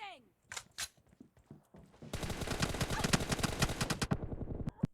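Gunfire in a PUBG Mobile 1v1 arena match: a few scattered shots, then a sustained rapid automatic burst of about two seconds, closing with several single cracks.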